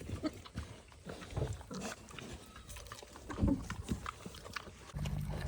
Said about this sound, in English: Here's all the little pigs.